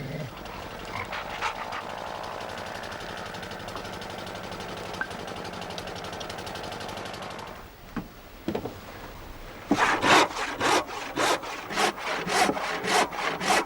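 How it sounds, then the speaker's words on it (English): Handsaw cutting out the wooden centreboard casing for a Shannon One Design boat, a steady rasping drone for several seconds, a brief pause, then louder, distinct back-and-forth strokes in a quick rhythm. "cuts out the centreboard casing"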